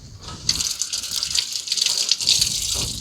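Tap water gushes in an uneven, splashing stream as chocolate is rinsed off, starting after a brief pause and continuing loudly to the end.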